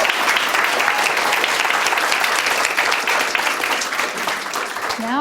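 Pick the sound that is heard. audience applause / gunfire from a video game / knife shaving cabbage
audience applause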